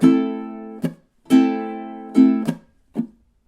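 Ukulele strumming in a bluesy minor pattern: sustained ringing chords alternating with short muted chops, steady rhythm, close and clear, no voices.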